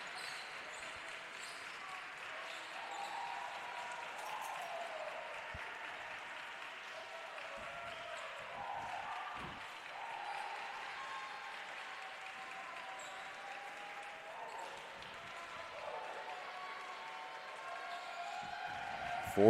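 Crowd at an NCAA Tournament volleyball match between Tampa and Barry keeps up a steady, moderately distant roar of cheering and applause that holds for the whole stretch without a break.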